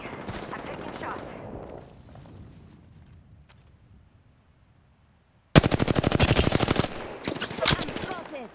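Loud rapid automatic gunfire in the shooter game Apex Legends erupts after a quiet stretch with faint earlier shots, a dense burst of rounds followed by a few more short volleys.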